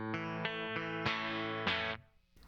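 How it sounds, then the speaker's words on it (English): An electric guitar runs through a Broughton Audio Omnicomp compressor pedal set to noon, playing several loud sustained chords with squashed, even attacks before the last one cuts off and the sound drops away. "Can you hear how it's starting to cut back that high output?"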